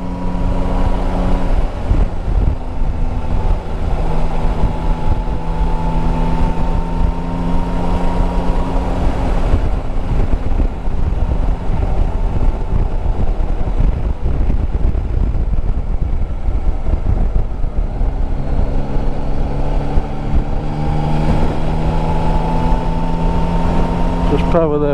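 A Yamaha Tracer 9 GT three-cylinder motorcycle engine drones steadily at speed with heavy wind rush, pitch rising and falling gently as the rider accelerates.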